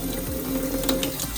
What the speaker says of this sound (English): I'm just kind of gonna rinse them off again.